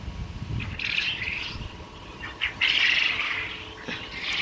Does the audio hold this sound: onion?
no